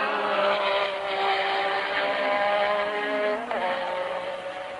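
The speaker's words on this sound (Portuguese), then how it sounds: "Aí ele despeja mais de 700 cavalos do seu motor Renault turbo com 6 cilindros." A 1984 Formula 1 car with a Renault turbo V6 of over 700 horsepower screams past at the Brazilian Grand Prix, a loud sustained whine whose pitch sweeps and drops as it goes by.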